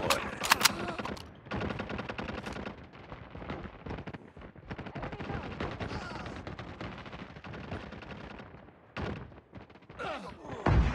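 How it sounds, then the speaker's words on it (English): Rapid automatic gunfire from a deployed sentry gun in a Hardpoint match on the Shipment map of a shooter game, loud and sustained, with bursts and brief pauses over roughly eleven seconds. "Sentry gun deployed."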